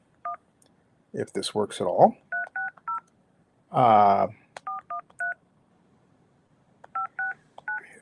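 Touch-tone telephone keypad beeps of a phone being dialed, several short bursts of paired tones in quick groups with gaps between, interrupted by someone talking and a loud noisy burst midway.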